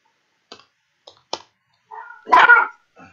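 A dog gives a few short distant yips followed by one louder, rougher bark near the end, with quiet gaps between sounds.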